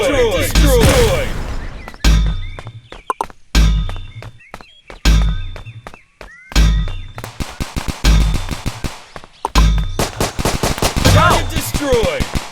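Pistol gunfire in the multiplayer video game Dude Theft Wars: loud, punchy repeated shots with thudding impacts, coming in uneven clusters and rapid strings.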